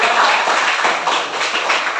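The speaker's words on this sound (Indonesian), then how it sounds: "Ya, tepuk tangan." Applause from a classroom of students, a steady dense patter of many hands clapping together throughout, fairly loud and close with no talk over it.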